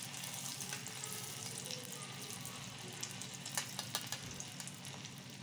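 Onion and a pinch of turmeric frying in a pan over medium flame, a steady soft sizzle with occasional crackles and light stirring clinks, fairly quiet and without talk.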